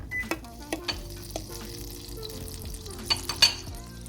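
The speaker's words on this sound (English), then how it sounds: "We're gonna go in with another tablespoon of vegetable oil, and also we're gonna add some butter" Butter melts into a preheated pan with vegetable oil for French toast, giving a soft, steady sizzle with occasional sharp pops and light clinks of a utensil against the pan, close and fairly quiet.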